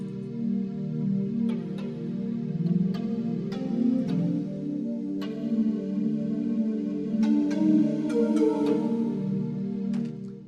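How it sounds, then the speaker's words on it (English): Soulful, flute-like pad chords from an M1 synth alternate between two chords in an amapiano-style beat, warm and sustained, with light clicking percussive ticks scattered over them and no talk. "So this one has a flute-like sound,"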